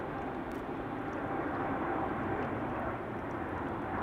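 A KLM airliner takes off at Amsterdam Schiphol Airport, its engines a steady, broad, continuous roar heard from a distance with no voices.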